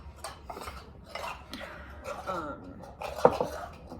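Waffle batter being mixed in a bowl, with close scraping and clinking of a utensil against the bowl in an uneven rhythm and one sharper knock near the end; faint talking in the background.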